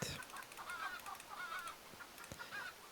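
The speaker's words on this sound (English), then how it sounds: "all of these chickens will remain alive and laying eggs." Chickens in a survival fantasy forest game cluck and squawk in repeated short bursts, several birds close together, with no talking.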